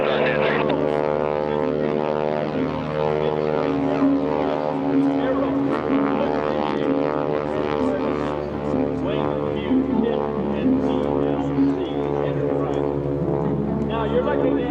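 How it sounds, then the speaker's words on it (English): A 600 horsepower Pratt & Whitney radial aircraft engine runs at an air show, giving a loud, sustained, throbbing rumble with steady harmonic tones and someone talking over it throughout. "You're listening to Radial Rumble. It's a big round 600 horsepower Pratt Whitney engine."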